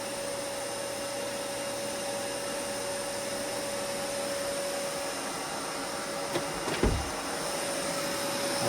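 A Dyson Cinetic Big Ball vacuum cleaner runs steadily with a constant whirring hum, fairly close, with a brief bump or thud near the end.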